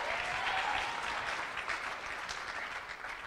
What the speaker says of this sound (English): Yes, clap that.